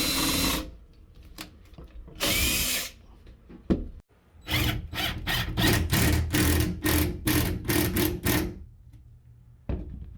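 A power drill drives a screw into wood while a loft frame is built, with a long whine early on and then a rapid run of short bursts, close and loud, with no talking.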